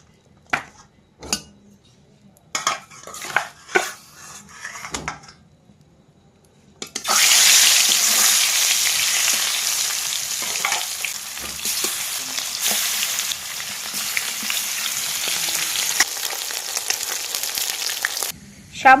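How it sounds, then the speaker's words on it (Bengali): Fish pieces coated in salt and turmeric go into hot oil in a wok. A few sharp clinks and knocks come first, then a loud, steady hissing sizzle sets in and holds close up for most of the stretch. "কড়াইতে তেল গরম হয়ে গেছে। এবার একে একে মাছগুলো ভেজে নেব।"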